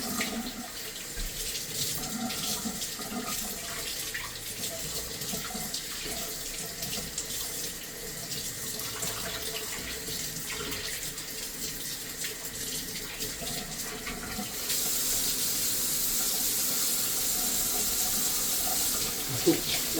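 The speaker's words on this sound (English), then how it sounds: "now I'm gonna wash my mint to make some" Tap water runs steadily into a kitchen sink while fresh mint leaves are rinsed under it, a continuous close splashing hiss that grows a little louder and brighter near the end.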